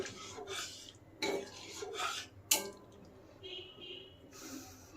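Ghugni is stirred in a pot after water is added, heard as soft, repeated spoon scrapes and wet clinks against metal, with a sharper knock partway through and faint talk in the background.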